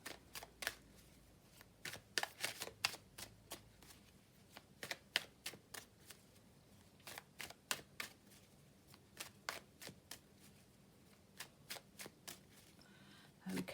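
Tarot cards being shuffled by hand, a run of crisp riffling bursts in quick irregular rhythm, fairly close and quiet, with no talking.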